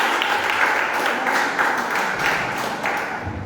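A church congregation claps its hands in praise during a worship service, dense and fairly loud applause with a faint pulsing rhythm that thins slightly toward the end.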